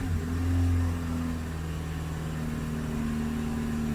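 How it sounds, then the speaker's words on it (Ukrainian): A Nissan X-Trail with an unadapted throttle body idles at high, steady revs after a cold start, a constant close hum with a slight rise at the start and no talk. "ну оберти стабільні, високі, тому що дросель не обучений, але стабільні"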